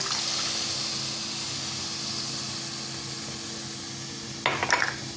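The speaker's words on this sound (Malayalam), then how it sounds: "നമുക്ക് 1 കപ്പ് പാൽ ഒഴിച്ചു കൊടുക്കാം" Milk poured into hot butter in a pan for a beetroot semiya dish, a steady loud sizzle and hiss that continues throughout, with a brief clatter of stirring near the end.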